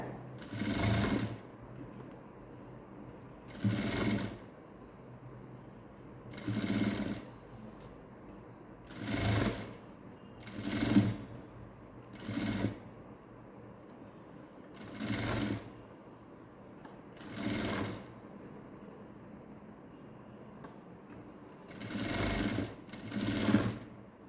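Sewing machine running long stitches along a folded blouse hem, in short bursts of even, rapid stitching repeated about eight times with brief pauses between, close and steady, no talk.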